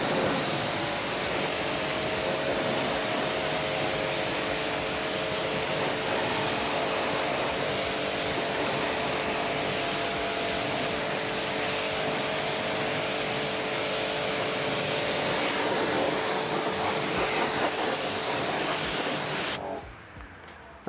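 Water spray rinsing a car wheel during detailing, a loud continuous broadband hiss that holds steady from start to finish and cuts off abruptly near the end.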